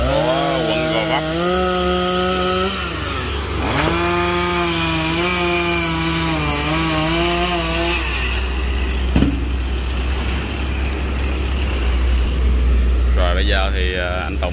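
A chainsaw cuts into a giant Bucida molinetii tree beside a house on a city street, its engine droning loud and steady with rising revs, while passing traffic and a voice are heard around it.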